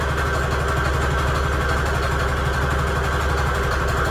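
A sewing machine stitches fabric and lace scrap trim in a steady, fast motorized hum with rapid regular needle chatter, close and continuous without pauses or talk.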